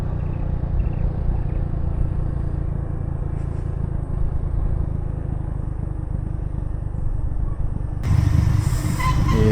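A motorcycle rides along the winding Cangar to Pacet mountain road in Mojokerto, its engine a loud, continuous close rumble with wind buffeting throughout.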